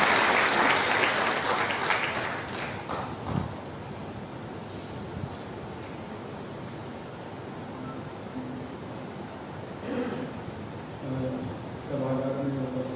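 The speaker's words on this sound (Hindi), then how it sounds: "भारत भूषण त्यागी जी को मंच पर जोरदार तालियों से स्वागत करता हूं" A conference audience applauds as a guest speaker comes on stage at a natural farming seminar. The clapping is loud and dense at first, then thins to a steady patter, and a voice begins to speak near the end.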